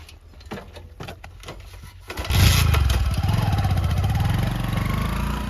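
A motorcycle engine cranks with a few faint clicks, then catches and settles into a loud, close, steady running putter.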